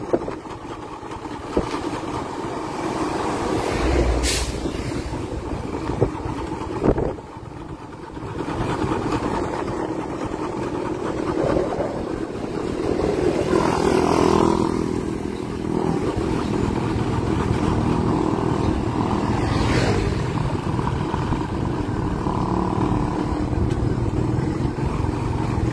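A Kawasaki Barako 3 motorcycle with a misfiring engine runs continuously while being ridden, its uneven drone steady and close with occasional sharp bursts and dips.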